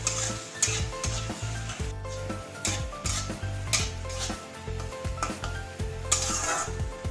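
Onions frying in a pan over a gas flame for a paneer kasa, with a steady close sizzle under repeated scraping stirs of a utensil against the pan and occasional metallic clinks.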